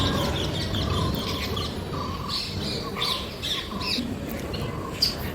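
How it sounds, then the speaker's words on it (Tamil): Common Indian parrots squawk repeatedly in harsh, bursting calls over a steady noisy background, fairly near and continuous throughout. "இது நார்மல் நம்ம இந்தியாவில் இருக்கிற கிளிங்க தான்."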